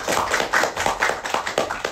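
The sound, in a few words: applause for the crew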